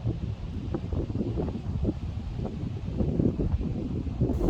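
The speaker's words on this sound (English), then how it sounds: "It's pretty windy out here." Wind blowing across an open farm field after heavy rain, a steady broadband rush with gusty rustling and buffeting against the microphone, continuous and fairly close, with no talking.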